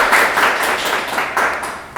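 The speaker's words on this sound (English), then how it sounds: "give them a loud round of applause before we start" An audience applauds, a dense wash of many hands clapping with rising and falling bursts throughout.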